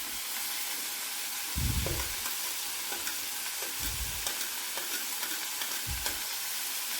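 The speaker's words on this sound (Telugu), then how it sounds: "ఇలా ఉప్పు మాత్రమే వేసుకుంటే మనకు ఉల్లిపాయ కొంచెం తొందరగా వేగుతుంది." Onions frying with salt in a pan for a Malabar spinach curry, a steady close sizzle with a few soft scrapes of stirring, no voices.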